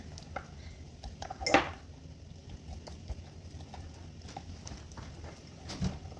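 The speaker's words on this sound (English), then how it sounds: "So you want to stir it up really good, make sure there's no clumps in here." A sourdough starter batter of flour and water is stirred in a container, producing soft, close knocks and scrapes of the utensil against the sides, with one sharper clink partway through and no talking.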